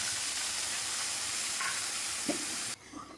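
Onion paste sizzling in hot oil with salt and whole spices, a loud, steady, close hiss filling most of the moment, then cutting off abruptly near the end to a quieter background.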